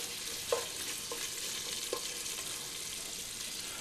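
Bacon frying in a pan until ultra crispy gives a steady, close, broadband sizzle with a few faint clicks of stirring, and no talk over it.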